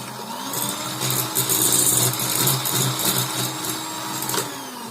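Electric hand mixer beating eggs with a pinch of salt for chocolate cupcake batter, a steady close whirring hum with slight rises and dips in pitch throughout, no talking.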